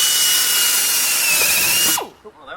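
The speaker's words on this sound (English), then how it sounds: "we gotta drill some holes for the drainage" A power drill bores drainage holes into the bed of an F150 pickup, a loud high whine running steadily for about two seconds before cutting off abruptly, followed by faint handling noises.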